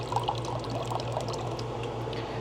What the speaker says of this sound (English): I'm putting about a cup of water in.